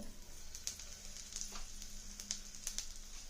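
Asafoetida sizzling in a little hot oil in a pan, a steady close crackle with brief louder pops scattered throughout, no talking.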